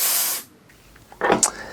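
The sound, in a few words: aerosol multi spray being sprayed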